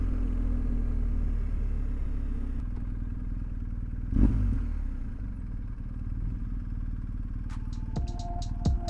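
A motorcycle rides along a beach road in Türkiye, its engine a steady low rumble with wind across the whole stretch, a brief louder thump midway and a few sharp clicks near the end.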